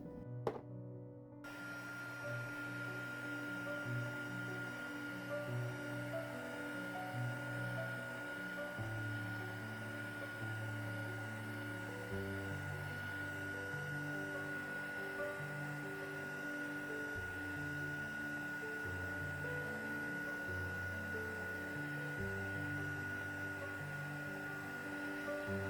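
A hair dryer drying a painted craft project, a steady close whir that holds for about 25 seconds with slight shifts in pitch, starting with a soft knock, and no talk.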